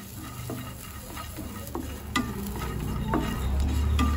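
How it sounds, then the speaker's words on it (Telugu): Dal fries in a pan as its water cooks off, giving a continuous sizzle with spaced taps and scrapes of a spoon against the pan, growing slightly louder toward the end. "నీరంతా పోయేదాకా ఇలా వేపుకుంటున్నాను"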